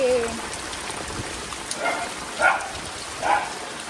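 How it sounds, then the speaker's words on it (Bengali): Steady rain falls outdoors, a constant soft hiss of drops on surfaces with a few faint, muffled voices rising briefly in the background. "পুজো সামনে এদিকে বৃষ্টি"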